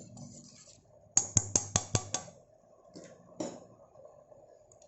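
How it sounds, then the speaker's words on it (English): A spoon clinks against a pot while an egg is stirred into chicken lemon coriander soup: six quick, bright taps in a rapid run, then two softer knocks a moment later, close and fairly quiet. "So add the egg and simultaneously keep stirring."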